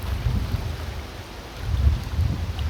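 Steady cold wind buffeting the microphone at a small swimming beach at Salmi outdoor area in June, low rumbling gusts that swell and ease, with faint water in the background and no voices.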